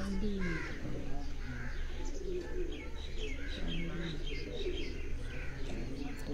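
Old Kasuri pigeons on a house rooftop give low, rolling coos amid scattered chirps from other birds, a continuous flock murmur heard fairly close.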